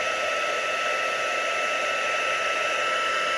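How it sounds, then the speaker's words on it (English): Heat tool blowing to dry multi-purpose glue on a handmade fall card, a steady, loud whooshing hum that runs without a break from start to finish. "I'm going to hit that real quick with my heat tool."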